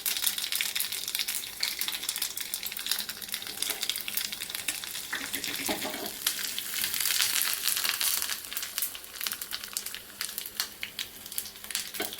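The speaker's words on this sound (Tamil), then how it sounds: "இப்போ இனிமே தான் வந்து நான் தாளிக்க போகிறேன்" Loud, steady sizzling and crackling of spices, including asafoetida, tempering in hot oil, close up and continuous, with no talking.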